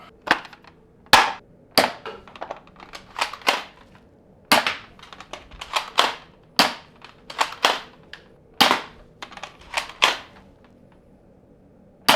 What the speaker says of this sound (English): let's fire some shots off. Okay, we'll put about 4 darts through this thing here